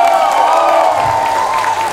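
Loud crowd cheering and high screams fill a singing contest hall in Christchurch, a brief, continuous burst of voices at close range.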